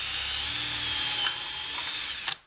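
A handheld power drill whines steadily as a bit bores holes through a drilling template jig for a Rockler shutter system, loud and close, running continuously before winding down abruptly near the end.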